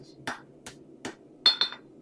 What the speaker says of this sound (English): We are going to hammer this backwards like so first.